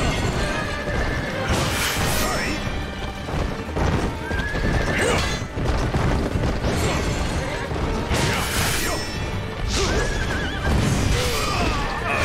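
Horse neighing with repeated whinnies and galloping hoofbeats amid game combat clashes in Wo Long: Fallen Dynasty, loud and busy throughout with no talking.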